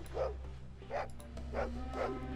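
Four evenly spaced barks from a dog in the video game Fallout 2, each a short punchy bark over a steady low hum.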